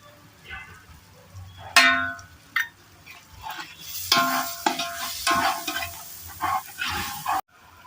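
A spoon stirs and scrapes a thick spice paste with pasta masala around a pan, with a soft sizzle and occasional metallic clanks in uneven bursts.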